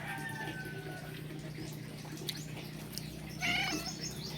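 A house cat lets out a short meow partway through, heard faintly over a steady background hum, with a louder, brighter cry near the end.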